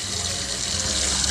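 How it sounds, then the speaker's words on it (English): Tap water runs steadily into a sink while chicken breast is washed for escovitch chicken, a continuous close hiss with no talking. "running water"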